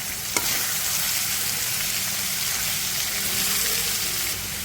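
Carrot and soya with egg are stirred in a frying pan, a soft continuous sizzle with scraping from the spatula, one sharp clink near the start, steady and close.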